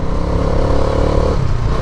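A Bajaj Dominar 400 motorcycle engine runs loud and close on a ride, a steady throbbing drone with a slight drop in pitch near the end.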